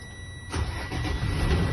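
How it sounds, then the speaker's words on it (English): Truck engine cranking and catching during a class A CDL in-cab inspection, a quiet moment before a steady low rumble settles into idle, close and continuous. "You put it in neutral, turn the truck on."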